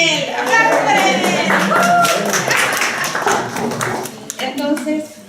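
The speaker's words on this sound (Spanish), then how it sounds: "¡Aplausos para él!" At a church gathering for married couples, a small group claps to welcome a man named Daniel, quick close handclaps mixed with voices and cheering, gradually thinning out.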